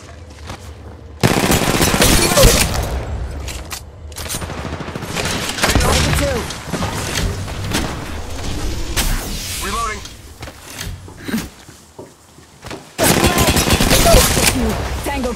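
Bursts of rapid automatic gunfire in Apex Legends Mobile battle royale combat, loud sustained volleys broken by short pauses, with game voice callouts mixed in.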